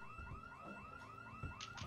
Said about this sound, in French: Il y a un zombie qui a déclenché l'alarme de la maison.